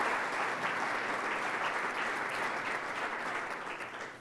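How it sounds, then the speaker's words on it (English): Sustained audience applause for event sponsors at a Columbus Metropolitan Club forum at the Ellis, a steady wash of many hands clapping that holds throughout and tapers slightly at the end. "Another round of applause for them as well,"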